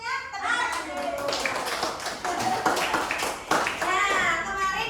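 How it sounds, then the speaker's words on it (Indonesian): A class of fourth-grade children claps together in a dense, steady patter for several seconds, with children's voices chattering over the clapping. "Tepuk tangan dulu."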